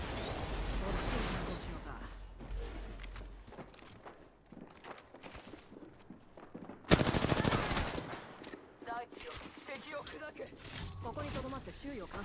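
Video game gunfire in bursts and scattered shots amid footsteps and game sounds, with a loud volley near the middle and people talking over parts of it.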